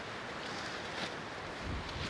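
Wind blowing outdoors around a shop build site, a steady broad rushing roar with slight gusts and a low rumble of buffeting, continuous and fairly close.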